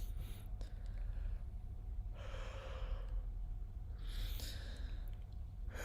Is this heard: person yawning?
yes